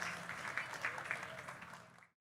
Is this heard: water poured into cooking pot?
no